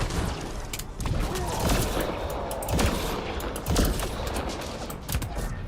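Gunfire in the Mass Effect: Andromeda video game, repeated loud shots and bursts with heavier booming impacts about once a second over continuous combat noise, and some talking underneath.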